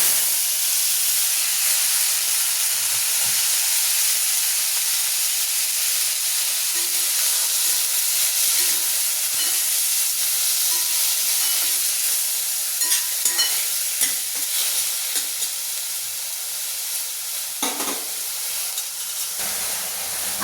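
Radish seed pods are added to a hot pan with turmeric and sizzle in a steady, loud hiss that runs the whole time, with faint stirring clinks near the end and no talking.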